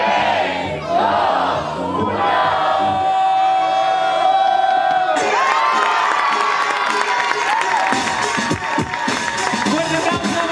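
A crowd at the final of a breakdance battle in L'Hospitalet erupts in loud shouts, whoops and cheering, with voices rising in a sustained roar and a sharp shift halfway as the noise swells again.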